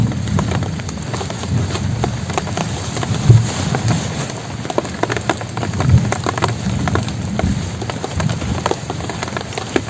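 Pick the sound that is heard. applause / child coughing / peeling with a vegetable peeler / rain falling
rain falling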